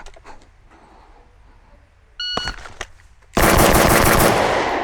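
Rapid pistol fire in a bill drill on a shooting range, preceded by a timer beep, then a loud, dense, unbroken string of close shots to the end.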